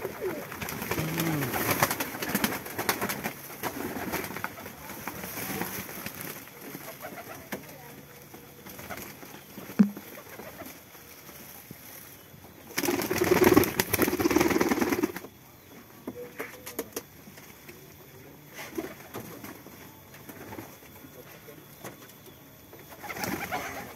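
Keter pigeons at a pigeon collector's loft coo in low, throaty phrases against steady background noise and occasional wing flutters. A louder burst of cooing comes about two-thirds of the way through, and someone talks over parts of it.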